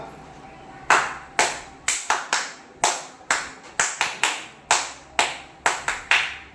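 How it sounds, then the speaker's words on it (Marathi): A single person claps hands in a steady rhythm, sharp close claps falling in short paired and grouped patterns, about fifteen in all, against a quiet room with no talking. "टाळी वाजवताना कशी वाजवायची, एक रिदम मध्ये वाजवायची"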